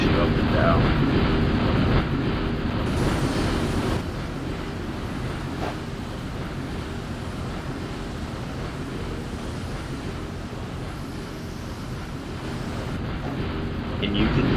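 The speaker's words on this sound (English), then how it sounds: "you can hear that wind blowing, can't you?" Strong wind blows across a seaside carnival near a spinning ride, making a loud, constant roar that buffets the microphone throughout and eases slightly partway through.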